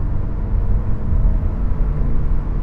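A Jaguar XF with a 3-litre engine accelerates from inside the cabin, its low engine rumble steady and fairly loud, with a broad road roar and no voices.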